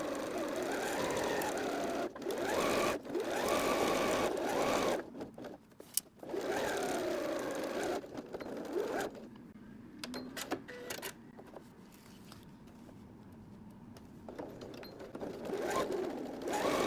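A sewing machine stitches a half-inch seam along the top of a fabric library bag in quick bursts with short pauses, then runs more quietly and intermittently toward the end.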